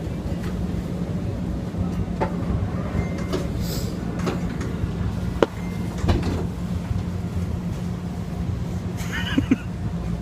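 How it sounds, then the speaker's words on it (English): Steady low rumble of a tram in motion, with a constant hum, faint rattles and occasional clicks and squeaks over the rails. "So we're on the tram."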